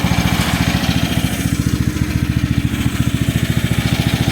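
A 1.5 ton mini excavator engine runs close and loud during break-in, its rapid, even pulsing chug carrying a steady mechanical rattle throughout.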